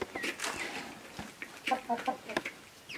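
Short, irregular clucks come from Zlaja, a handsome rooster with feathered legs, close by in a farmyard where ducks move around him.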